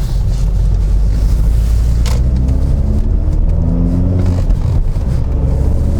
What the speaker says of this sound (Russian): Выхлоп здесь вырезан весь